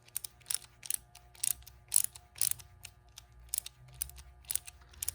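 A hand ratchet clicks in short bursts while snugging bolts on a rebuilt throttle body injection unit, several quick close ratcheting runs separated by brief pauses in an otherwise quiet workspace.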